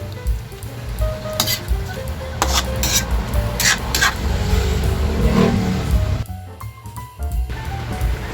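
Vegetables simmering in coconut milk sizzle in a pan while a utensil stirs and scrapes through them, with sharp scraping strokes over a steady bubbling hiss.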